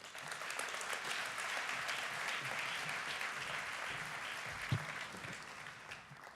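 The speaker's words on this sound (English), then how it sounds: "Another round of applause, please, folks." Audience at a fatherhood summit at Merritt College applauds steadily for several seconds, a dense even wash of many hands clapping that holds at a constant level, with one slightly louder clap near the end.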